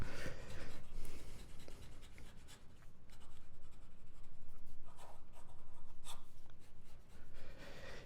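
A Scribo Piuma fountain pen scratches rapidly across paper in quick, continuous strokes, close and steady for about eight seconds with no talking.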